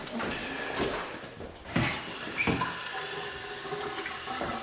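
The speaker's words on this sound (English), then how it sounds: "You see the water coming?" Water runs from a leaking faucet at a bathroom double sink, a steady hiss that grows louder partway through, with some clunks and knocks and no talking.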